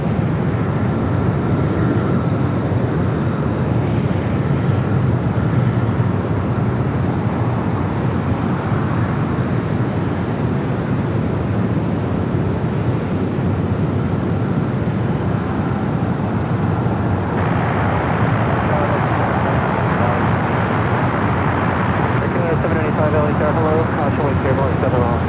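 An airliner on approach to runway 25 left at LAX, a continuous loud roar of jet engines and rushing air that stays steady and close throughout, with radio voices talking over it.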